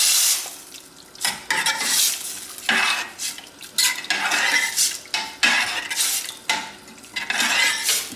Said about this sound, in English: just a quick stir, and then in goes the tomatoes